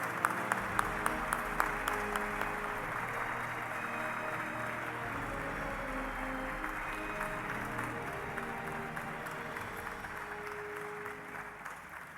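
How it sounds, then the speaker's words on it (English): Sustained applause from a conference audience at a day-two special announcement, a steady dense clapping wash that carries on evenly from start to finish at moderate distance, with a voice briefly audible over it. "Let's clap for them some more."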